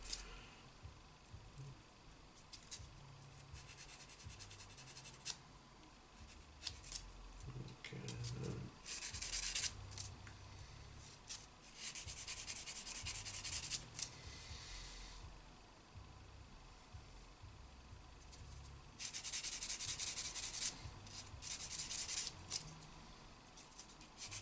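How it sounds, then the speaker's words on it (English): A sanding sponge rubs flash off a plastic Tiger tank model kit part in repeated close, soft scratchy strokes of varying length, with short pauses between bursts and no talk. "These sanding sponges are good, they're not as aggressive"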